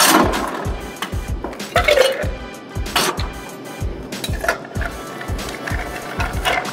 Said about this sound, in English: I only stir a couple times.